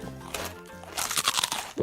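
Crispy fried chili fish crunched in quick, close bites, a dense burst of loud crackling crunches with no speech over them.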